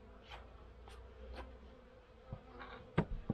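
Honey bees in a Pennsylvania winter hive give off faint, scattered buzzes and brief rustles close by, a few short bursts rising above a low, quiet hum.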